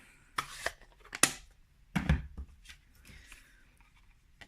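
Paper scissors fussy cutting around a stamped Whisper White cardstock sentiment, giving a few crisp, close snips and rustling handling sounds with short pauses between cuts.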